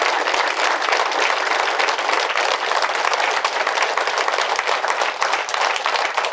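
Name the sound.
audience applause for Master Ramu and Master Navakanth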